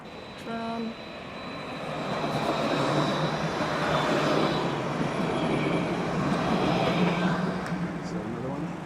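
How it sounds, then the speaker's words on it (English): A tram rolls past on rails along a city street reclaimed from parking, a steady rumbling swell that builds after the first second and holds loud and close before easing slightly at the end. "Tram."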